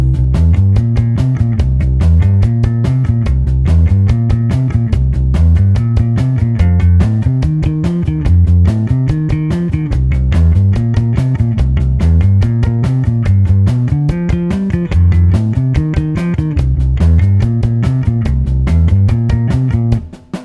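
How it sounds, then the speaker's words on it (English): A loud, driving bass guitar riff repeats a bouncing rock and roll figure in steady rhythm, moving through the chords of a 12-bar blues without pause. "it has a repeating bass figure that you simply move through each of the 3 chords"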